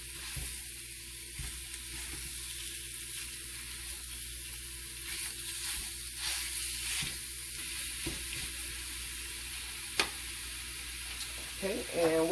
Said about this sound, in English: so I have my sausage in my pan, and now I'm starting to brown it up